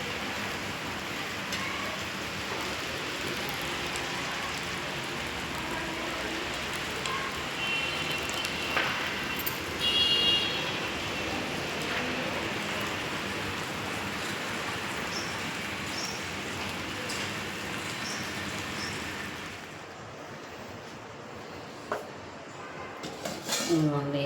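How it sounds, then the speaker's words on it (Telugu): Heavy rain pours down in a steady, dense hiss that barely changes for most of the stretch, then thins slightly near the end, with faint background sounds underneath. "ఇప్పుడు దాకా ఎంత ఎండ ఉందో వర్షం ఫుల్ వర్షం పడుతుందండి"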